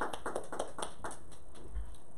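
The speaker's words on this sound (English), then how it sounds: "Let's give the Lord a hand clap." Brief burst of hand clapping from a church congregation, a few quick claps fading after about a second, fairly faint and roomy.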